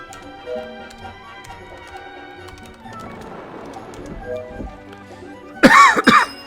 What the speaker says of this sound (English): See? Coughing.